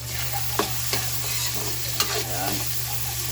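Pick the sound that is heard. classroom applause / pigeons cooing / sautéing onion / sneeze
sautéing onion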